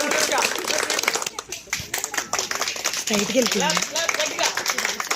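An audience at a street Ugadi celebration claps for prize winners, a scattered burst of applause close by with people talking over it and a voice calling out.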